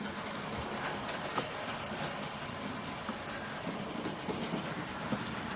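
A Hornby model Peckett 0-4-0 locomotive pulls a train along a model railway layout, giving a steady, moderately loud rolling rumble with faint rhythmic clicks running throughout.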